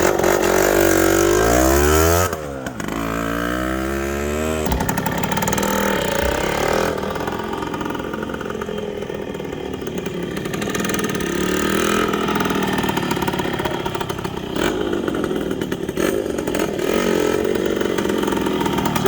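A restored 1972 Yamaha LT3 100 enduro motorcycle with a two-stroke single engine idles close by, loud and steady, after a brief revving burble at the start.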